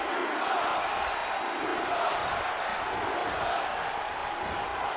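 A wrestling arena crowd in the WWE 2K26 video game roars in a dense, steady wash of noise, voices blending into constant loud crowd sound with no single caller standing out.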